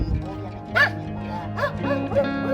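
A small dog stranded on a rooftop gives several high yips and whimpering barks in quick succession, close and fairly loud, with a person speaking alongside.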